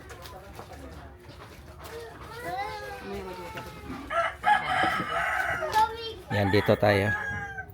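Chickens in an outdoor yard in Rosario, Cavite, Philippines, a rooster crowing with scattered clucks mixed into street ambience while people talk nearby over them.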